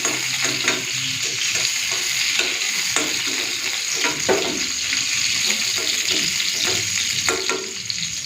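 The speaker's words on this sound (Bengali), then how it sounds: "ফুলকপিটা লাল করে ভেজে নিয়েছি" Cauliflower pieces fry to a reddish brown in a pan for a vegetarian cauliflower-potato curry, a steady close sizzle broken by repeated scraping and stirring clicks throughout, with no talking.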